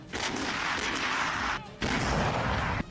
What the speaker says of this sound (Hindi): मोर्चा संभालने के बाद यूक्रेन के ठिकाने पर तोप गोले बरसाने लगी